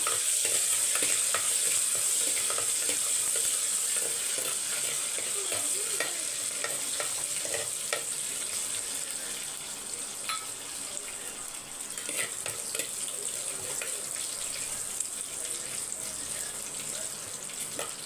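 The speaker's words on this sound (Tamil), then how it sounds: "இப்போ இது ஒரு அஞ்சு பல் பூண்டை நசுக்கி வச்சுருக்கேன் அதை சேர்த்துக்கலாம் நல்லா பொரியணும்" Five cloves of crushed garlic fry in a pan, giving a continuous close sizzle with frequent stirring scrapes throughout and no talking.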